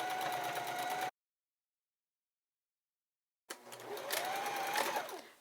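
A sewing machine stitches a fabric lid for a storage box, its steady whirring hum running for about a second, cutting to silence, then resuming louder and slightly uneven for the last two seconds.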